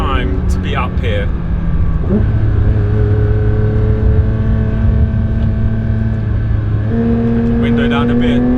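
A Porsche 992 GT3 RS is driven hard on a mountain pass, heard loud from inside as the engine climbs through the revs, with clear pitch rises and sudden drops at the gear changes.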